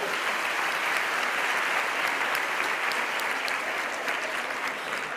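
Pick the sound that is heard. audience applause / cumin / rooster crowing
audience applause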